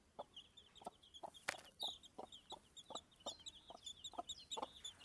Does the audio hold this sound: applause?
no